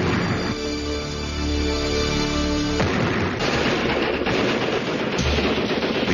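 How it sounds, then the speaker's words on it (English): A .50 caliber M2 Browning machine gun fires sustained bursts, loud and dense throughout, with a heavy rolling roar and overlapping booms. "the 50 caliber Browning proved itself as one of the most versatile and effective machine guns"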